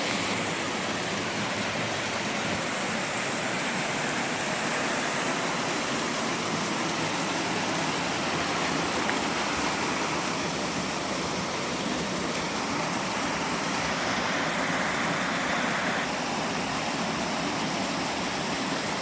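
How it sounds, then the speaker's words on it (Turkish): A small waterfall on a village stream pours in a constant dense roar of rushing water, close and loud throughout, with no voices. "Şöyle bir şelalemiz var."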